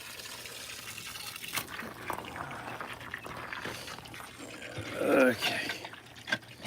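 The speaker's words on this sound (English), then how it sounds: "Put a lot of pressure on the hose right now." Water from a garden hose under pressure sprays and splashes steadily at moderate distance, swelling louder for a moment near the end, with a brief spoken word over it.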